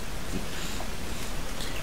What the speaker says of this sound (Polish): Szum deszczu.